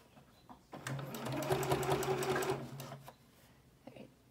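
Sewing machine stitching a slash zipper pocket on a fabric tote: a short run of rapid mechanical stitching rising from quiet, steady and close for about two seconds, then slowing and stopping.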